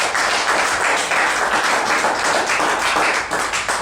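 Wedding guests clap steadily and densely throughout, a loud, continuous burst of applause from a crowd with no pauses.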